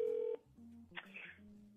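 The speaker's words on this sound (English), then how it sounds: "we're going to answer the phone" A telephone gives one short electronic ring tone, close and clear, then cuts off to quiet handling noises and faint rustling.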